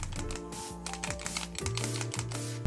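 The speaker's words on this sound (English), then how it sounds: "That ticking sound you hear would be the magazine shaking back and forth" Rapid light plastic ticking and clicking from the magazine shaking in an ASG CZ P-09 airsoft pistol, a steady rattling patter close up with no voices.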